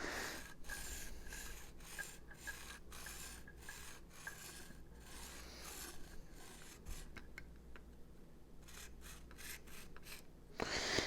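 A knife blade drawn repeatedly across the stone of a Smith's Precision Sharpening System, making steady rasping strokes in an even rhythm, close and quiet, with a louder scrape at the end and no talking.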